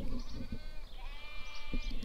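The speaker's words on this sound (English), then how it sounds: "Lambs are bleating in the field." Lambs bleating in a hillside field, a couple of wavering high-pitched calls, moderately close, over low background rumble.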